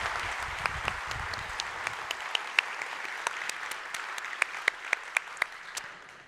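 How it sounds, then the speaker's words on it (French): Faint applause from a conference audience, a soft wash of clapping with a few sharper individual claps that thins out toward the end. "Alors, applaudissements."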